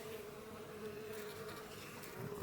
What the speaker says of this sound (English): what are these bees doing in this mailbox?